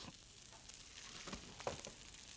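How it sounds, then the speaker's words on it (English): Pompano fish sauteing in a little oil in a hot skillet, a faint steady sizzle with a few soft clicks and stirring touches, no talking. "I'm going to start sauteing the fish just like that"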